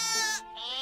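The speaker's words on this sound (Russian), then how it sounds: "Послушайте, как Степан смешно блеет." A cartoon sheep bleats in a close, wavering cry that breaks into a second, softer bleat, with no talking around it.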